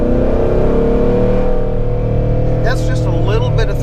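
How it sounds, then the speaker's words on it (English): A Jeep Wrangler JK with an LT1 engine and 10-speed gearbox pulling away under light throttle, a smooth rising engine tone close by, with someone talking over it toward the end. "That's just a little bit of throttle, and it moves this JK like nothing"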